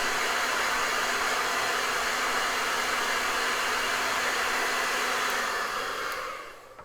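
A hair dryer drying paint blows steadily and loudly in a continuous rushing whir before cutting off near the end.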